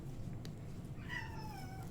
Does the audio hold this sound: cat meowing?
yes